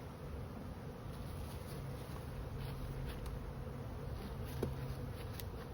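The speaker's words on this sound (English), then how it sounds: "There's a lot of bees in this box." Honeybees in a hive box give off a low, steady, faint buzz, a continuous drone with occasional individual bees passing close.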